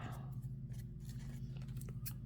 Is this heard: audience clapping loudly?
no